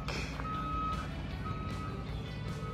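A bus backs up with its reversing alarm sounding, a steady repeated tone over a continuous low engine rumble, heard fairly close outdoors.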